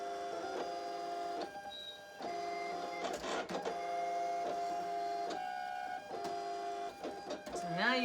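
Silhouette Cameo 4 cutting machine cutting cardstock without a mat, a steady electronic motor whine with repeated short stops and starts, clicks and brief chirps as the carriage moves, heard up close.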